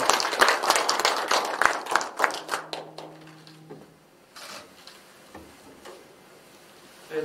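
Attendees at a regular district council meeting in Mapo-gu, Seoul, clapping in a burst of sharp, distinct claps that fades out after about three seconds into quiet room noise with faint shuffling.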